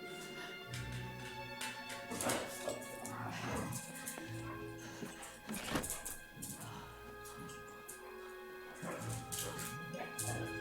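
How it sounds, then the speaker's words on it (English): Several household dogs fight off in the background, with yips, whimpers and barks mixed into dense video game music and sound effects, fairly faint and continuous across the stretch. "I apologize if you hear background noise. It is my dogs fighting."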